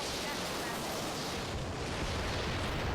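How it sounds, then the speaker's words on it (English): Long-range missiles (LRMs) detonating in the mech combat game Battletech, merging into a loud, continuous roar of overlapping blasts that fills the whole stretch without a break. "Oh, they're all exploding before they get there."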